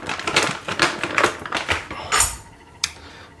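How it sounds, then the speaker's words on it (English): Crinkly plastic rustling and crackling as a bag of dried apricots is opened, in a steady series of bursts, close up, ending with a sharp tearing snap. "the sound of that bag opening was a bit too loud"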